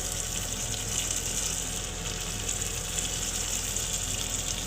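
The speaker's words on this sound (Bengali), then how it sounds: "পেঁয়াজগুলো ভাজা ভাজা হয়ে গেছে" Steady, even sizzling of chopped onions and tomato frying in a hot pan, a constant hiss with no pauses and no voices.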